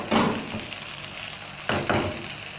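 Okra being stirred into a hot pan of masala for masala bhindi, giving a steady sizzle with two brief scraping stirs near the start and again toward the end, close and alone.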